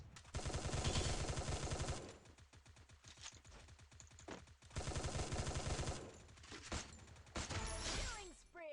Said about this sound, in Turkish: Ben de diyorum silah sesi nereden geliyor?